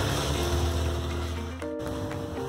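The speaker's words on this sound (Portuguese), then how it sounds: "Despejei a água aqui," Sugared water, 100 grams of sugar dissolved in it, is poured over a grated homemade bar-soap base for liquid soap, making a steady close splashing rush that shifts in tone partway through.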